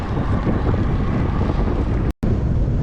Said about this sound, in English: Hopefully you can even hear me with all this wind.